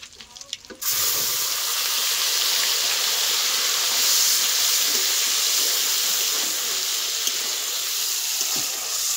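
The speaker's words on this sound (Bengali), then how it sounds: "এটা দিয়ে আমি ভালো করে কিছুক্ষণ একটু কষিয়ে নেবো, পেঁয়াজ আদা রসুনের গন্ধটা যাওয়া পর্যন্ত" A paste of ground onion, garlic, ginger and green chili with bay leaves sizzles steadily in hot oil in a pan, a loud continuous frying hiss after a brief quieter start, with no talk over it.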